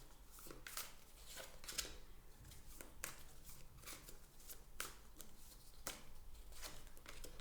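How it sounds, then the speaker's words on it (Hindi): Tarot cards being drawn and handled from a deck, with soft, close slides and riffling flicks that come at irregular intervals. The sounds are faint and stand alone without talk. "3 कार्ड्स निकालेंगे हम लव एरिया के लिए।"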